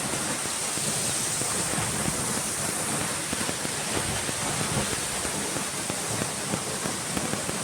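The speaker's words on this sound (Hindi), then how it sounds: "इस आवाज़ को सुनिए, ये झरना जैसे बह रहा है।" Jonha or Hundru Falls near Ranchi pours over rocks in a steady, dense rushing roar that fills the whole stretch without a break, close and loud, with no voices.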